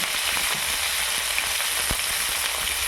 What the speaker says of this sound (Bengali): তারপর দিয়ে দেবো ফুলকপি, ভালো করে দিয়ে পরিষ্কার করে নিয়েছি, ভেজে নেবো